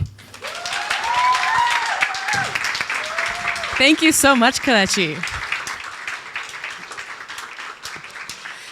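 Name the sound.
audience applause and clapping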